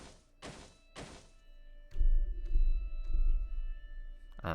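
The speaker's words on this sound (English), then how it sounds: "It sounded like somebody was stomping on the floor in frustration." Thumping footsteps stomping on a floor in the Higurashi When They Cry video game, a series of heavy low thuds in an irregular rhythm, following a few short bursts of noise.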